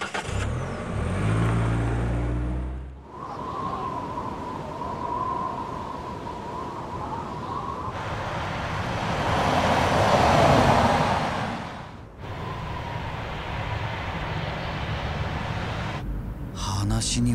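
Taxi in the Judgment video game pulling away and driving off, a steady mid-level engine hum with a rise in revving partway through, under in-game music and ambience.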